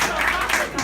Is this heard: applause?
yes